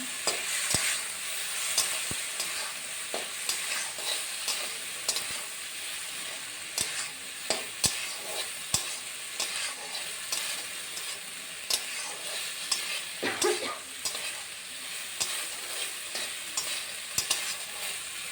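Mourala fish fry in a spiced masala with a continuous sizzle, broken by frequent clicks and scrapes of stirring that grow sharper toward the end, with no voices.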